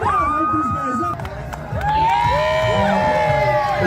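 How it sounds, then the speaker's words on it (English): A crowd at the North American Wife Carrying Contest cheers and whoops loudly and continuously, with excited shouting voices layered through a dense outdoor hubbub. "To hear more from the crowd."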